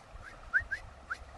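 A person whistles in imitation of whistling at a bear, giving three short, faint rising chirps close together over a quiet background.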